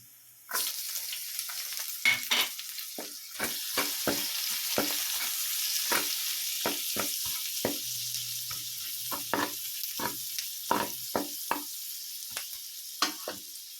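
Pork browning in its rendered fat with garlic added, a continuous sizzle broken by frequent sharp scrapes and knocks of a utensil stirring in the pan, close and busy throughout.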